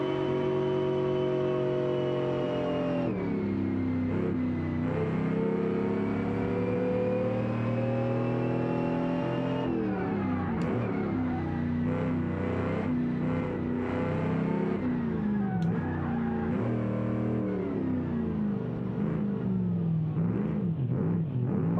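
A virtual car's engine drones continuously in the Automation video game, holding a steady loud tone with shifting pitch as it revs up and down through gears, with no voices present.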